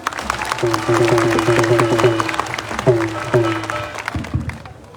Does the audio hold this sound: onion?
no